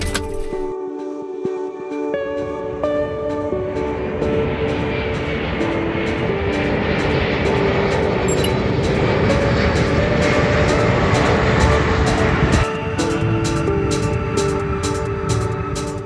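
A single airplane on a long final approach to a runway, about nine miles out, gives a steady, continuous engine drone that holds evenly throughout with no talk over it.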